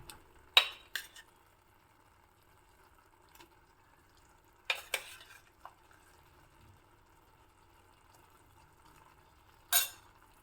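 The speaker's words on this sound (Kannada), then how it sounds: "ಈಗ ನಾನು ಇದಕ್ಕೆ ಬೇಯಿಸಿಟ್ಕೊಂಡಿರೋ ತೊಂಡೆಕಾಯಿ ಹೋಳುಗಳನ್ನು ಹಾಕ್ತಾ ಇದ್ದೀನಿ" Boiled ivy gourd pieces drop into a pan for palya, making a few soft, scattered plops and clatters separated by long stretches of near silence.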